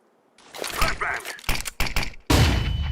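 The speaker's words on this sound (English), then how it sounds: "Flashbang!" Flashbang grenade in Counter-Strike 2 going off: a series of sharp, close bursts and clatters, then a loud, sustained blast at the end.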